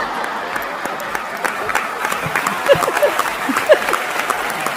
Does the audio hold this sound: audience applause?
yes